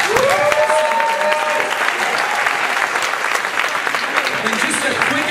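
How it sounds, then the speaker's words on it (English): Audience applause at a student talent show, a dense, steady wash of clapping from a large crowd filling the whole span at full loudness, with some cheering and voices mixed in. "One more big round of applause for the first."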